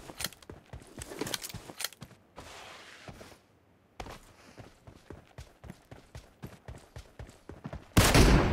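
Rapid bursts of gunfire from a 1v1 team deathmatch in PUBG Mobile, sharp repeated shots in quick clusters with brief pauses between volleys, ending in a loud dense burst.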